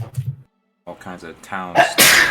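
A single loud, sharp sneeze bursts out at the end, right after a person's brief speech and a short pause.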